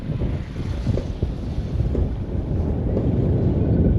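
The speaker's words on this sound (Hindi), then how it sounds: "बहुत मस्त हवा चल रही है, हवा तो एकदम बिंदास वाली हवा चल रही है, तगड़ी वाली हवा चल रही है, ठंडी ठंडी वाली" Strong, cold wind blows outdoors in Ballia district, roaring steadily and buffeting the microphone with a loud, low rush and no talking.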